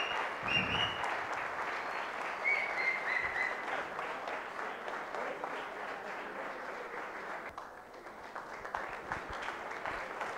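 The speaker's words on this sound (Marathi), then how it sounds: "जोरदार टाळ्या झाल्या पाहिजेत." An audience at a project competition prize distribution claps steadily for the winners, a dense sustained applause lasting throughout with a few faint whistles early on.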